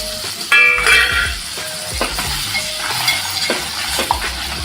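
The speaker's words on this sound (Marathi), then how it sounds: "तर आपण हे परतून घेणार आहोत" Crab masala with red chili powder being sautéed in a pan, a steady sizzle with a spoon stirring and clinking against the metal, sharp clinks at the start and then scattered scraping strokes.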